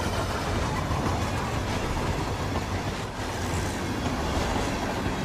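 A train in Hitman 3 runs along rails on a secret route, giving a dense, continuous rumble with rattling clatter and a faint metallic hiss, steady and close throughout, with no voices.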